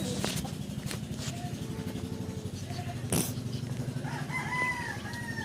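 A white Kelso gamefowl rooster crows outdoors at moderate distance, with a low engine drone and other clucking birds in the background.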